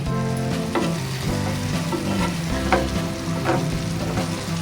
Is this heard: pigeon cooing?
no